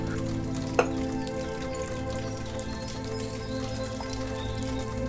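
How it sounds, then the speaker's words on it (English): Rain falls steadily at a cave diving campsite with a pavilion, a dense, even patter with a single sharper drip or tap near the start, no voices. "A bit of a shame with the rain."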